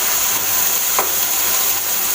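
Tomatoes, chilli powder and turmeric fry in hot oil, giving a loud, continuous hiss and sizzle with a faint stirring scrape at one point.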